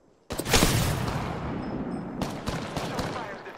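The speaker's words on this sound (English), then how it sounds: "They're shooting at me." Gunfire aimed at the player in Apex Legends, a sudden burst of rapid shots followed by sustained loud firing and a few sharper cracks near the end.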